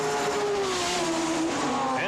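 Porsche race cars at speed on the Watkins Glen circuit, their engines a steady high whine that sweeps downward as they pass, with a brief rising note at the end and a commentator talking over them.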